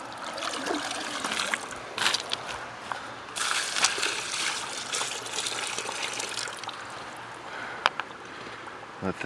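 Water poured into a two-thirds full bucket to soak its dry contents, a steady, moderately quiet trickling and splashing with small irregular bursts, continuous throughout and without talk.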